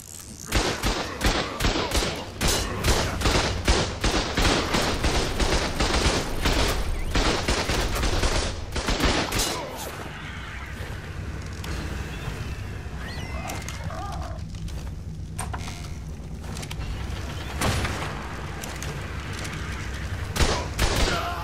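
Turret gunfire in the survival game ARK during PvP, rapid dense bursts of shots dominating at first, then thinning into scattered reports over quieter background.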